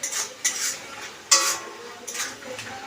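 Grated coconut and jaggery are stirred in a pan for coconut laddu, producing soft scraping and light clinks of a spoon against the pan in uneven strokes, fairly quiet and close.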